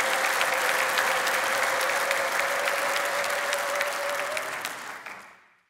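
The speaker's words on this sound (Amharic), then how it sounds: "እስቲ በደንብ አጨብጭቡ።" A church congregation claps loudly and continuously for several seconds, a dense crowd of hands that fades out at the end.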